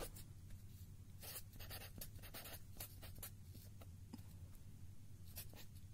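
A pen scratches out accounting entries on paper in a run of short strokes, faint and close over a steady low hum.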